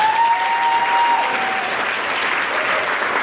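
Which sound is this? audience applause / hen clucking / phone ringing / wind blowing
audience applause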